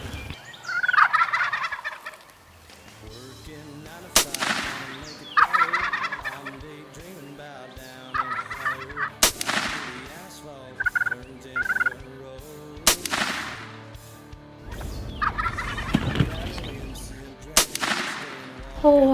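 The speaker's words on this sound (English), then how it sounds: "We got like 6 gobblers in front of us." Several wild turkey gobblers in a field let out repeated loud, rattling gobbles in bursts, some close and some farther off, with a few sharp gunshot-like cracks and quiet talk between the calls.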